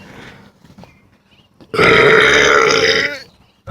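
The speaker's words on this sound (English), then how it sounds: "okay, that's burp 1." A single loud, drawn-out burp rumbles close to the microphone for over a second after a quiet lead-in, with faint background noise before it.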